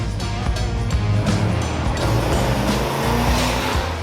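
A 1979 Li'l Red Express hot rod engine rumbles steadily and loudly up close, a deep continuous throb with slight swells in revs across the whole stretch.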